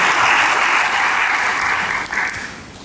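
Church congregation clapping together in steady, full applause for several seconds, loud at first and tapering off toward the end, with no speech over it.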